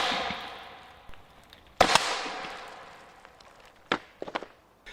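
Harpoon fired from a 12 gauge shotgun barrel at a target 15 yards away, a sharp loud blast that decays slowly, followed by a few fainter knocks and clatters.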